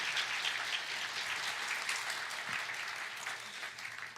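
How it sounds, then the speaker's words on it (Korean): A church congregation applauds loudly and steadily to welcome a guest preacher at a Sunday service, dense continuous clapping that fills the room and holds at full strength throughout, with no speech over it. "우리 한번 크게 박수로 환영해 주십니다."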